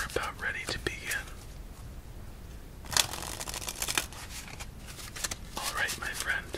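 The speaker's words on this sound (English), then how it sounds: "two more shuffles and then we're about ready to begin" A deck of playing cards is shuffled by hand at an ASMR solitaire table, giving soft riffling bursts close to the microphone, interleaved with quiet whispering.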